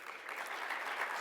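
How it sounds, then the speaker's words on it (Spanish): A crowd at an institutional opening ceremony applauds continuously, the dense patter of many hands sounding faint and distant throughout. "un aplauso"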